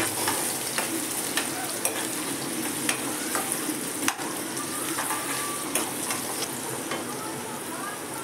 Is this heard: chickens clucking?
no